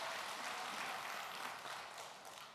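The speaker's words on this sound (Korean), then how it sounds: "박수로 하나님 앞에 영광 돌리겠습니다" A church congregation applauds during a Sunday service, a soft, even wash of many hands clapping that sounds distant and tapers off toward the end.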